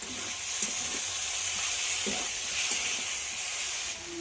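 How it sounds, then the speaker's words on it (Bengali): Cauliflower and potato fry with spices in a pan, giving a steady close sizzle broken by a few soft stirring scrapes, with no voices. "মশলার সঙ্গে কপি আর আলুটাকে ভেজে নিতে হবে"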